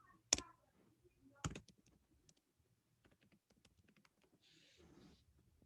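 Quiet keyboard typing with a few sharp key clicks, two louder taps near the start followed by a light run of soft keystrokes and a brief rustle, alone without talk.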